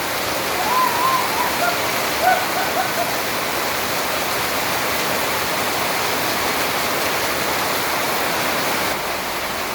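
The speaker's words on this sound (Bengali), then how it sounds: "দেখুন কেমন জোরে বৃষ্টি" Heavy rain pours steadily in a dense, roaring wash, continuous throughout, with a few faint chirps barely audible in the background.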